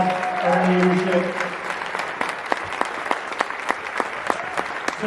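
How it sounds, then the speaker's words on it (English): Audience at a county party reorganization meeting giving a round of applause, claps swelling under a brief voice and then thinning to sparse, distinct claps. "Can we give Amy a big round of applause for her leadership?"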